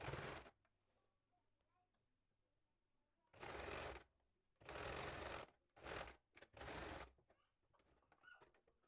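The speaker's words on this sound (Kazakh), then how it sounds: "Оны да алып мына жақтан тігіп тастайтын боламыз." Sewing machine stitching a school vest, running in four loud bursts of a second or so each, separated by quiet pauses with faint handling sounds.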